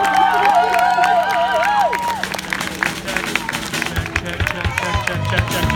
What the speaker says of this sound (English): So everyone, please give him a round of applause